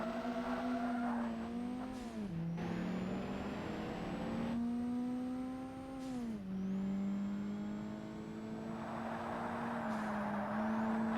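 A mid-engine Toyota MR2 race car in Forza Motorsport drones steadily through a race, its engine pitch dipping at each gear change and climbing again, with brief tire squeal and no talking.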